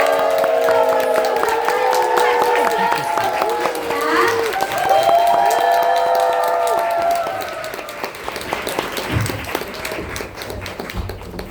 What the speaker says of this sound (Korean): 큰 박수 함성으로 모시겠습니다